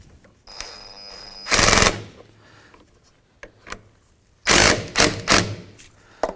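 Ratchet on a 10 mm socket tightening a battery terminal nut on a 2015-2019 Hyundai Sonata, quick loud bursts of rapid clicking separated by pauses and a few light knocks, close up.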